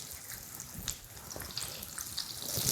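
Saltfish burgers coated in breadcrumbs fry in a pan with a faint, steady sizzle and crackle, with no talk over it.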